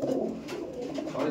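A pair of Old Line Madrasi pigeons coo softly close by, making a brief, low, throaty rolling call.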